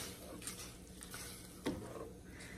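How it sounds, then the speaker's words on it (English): Tomato sauce from an 8-ounce can being stirred into a pot of simmering dinner, a soft continuous scraping and swishing with a light sizzle beneath and one brief clink near the end, steady and close. "dump that in, give it a good stir"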